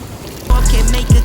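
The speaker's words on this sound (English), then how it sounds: "The rain is coming down very, very hard" Heavy rain pounds on a parked camper van, a steady broadband hiss with deeper low thumps and rumbles rising partway through.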